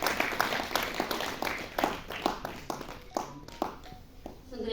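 An audience claps at a book release function, producing a run of scattered, uneven hand claps that rise and fall for a few seconds without building into a full ovation.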